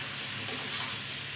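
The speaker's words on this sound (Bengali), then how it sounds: "ভালো করে ঝিঙে আলুর সাথে মিশিয়ে নিলাম।" A ridge gourd and potato curry is stirred in a hot pan, a brief close sizzle with a scrape of the spoon.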